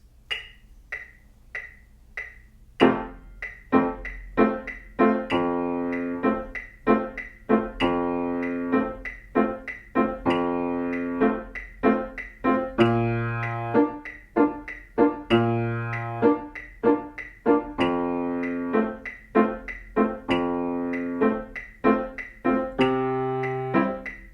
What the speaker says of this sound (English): I will be playing a 12-bar blues for our singing and counting purposes today